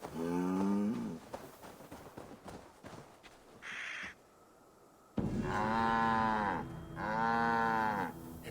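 A cow in Assassin's Creed Valhalla lets out loud, drawn-out moos: one at the start, then two long calls close together near the end, with quieter game sounds in between.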